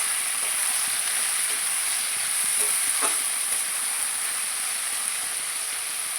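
Potatoes and onions frying in a pan for a Bengali dish, a steady close hiss and sizzle with a faint stir around the middle, no talking.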